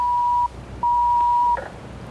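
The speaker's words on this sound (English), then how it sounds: "It's the Jan Brady phone" A steady electronic phone tone sounds twice in the MST3K episode Stranded in Space, loud and close, each burst about half a second to a second long with a short gap between them.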